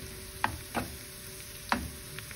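Garlic for siomai frying in a pan, a faint steady sizzle broken by three or four sharp stirring scrapes spaced about a second apart.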